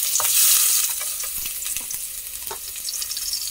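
Garlic frying in hot oil gives a bright, steady crackling sizzle, loudest at the start and then settling. Scattered small pops and stirring scrapes run through it, close up with no voices.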